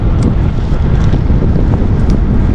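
Light headwind rushes past a cyclist riding a long-distance bikepacking route. Loud, steady buffeting roars close in, low and constant, with faint swishes on top and no voices.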